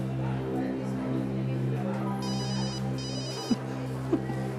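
A phone rings with a repeating electronic tone over a steady hum, with a couple of sharp clicks toward the end.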